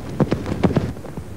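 Hooves of a galloping horse thud in quick irregular beats, several close soft impacts in a rapid rhythm over a brief stretch, with no voices present.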